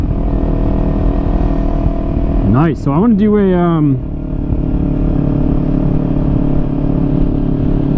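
A 2020 KTM Duke 390 motorcycle with a dB killer fitted idles loudly nearby, then revs up twice in quick rising blips before settling back, while a person speaks over it.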